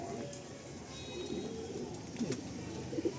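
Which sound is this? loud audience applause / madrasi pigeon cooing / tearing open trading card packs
madrasi pigeon cooing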